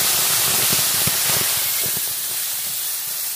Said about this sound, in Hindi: दैन का तड़का मारते हैं